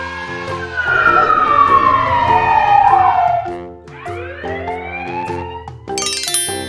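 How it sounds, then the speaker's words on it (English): A police car siren sweeps down and back up in loud, close wails over an engine rumble, with a brief horn-like blast near the end. "Police car."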